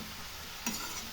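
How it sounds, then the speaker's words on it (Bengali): Bathua greens stirred with salt and turmeric in a frying pan give a steady close sizzle, with a single brief scrape of the spoon partway through the short moment. "এবার লবণ হলুদটা শাকের সাথে ভালোভাবে মিশিয়ে নিব।"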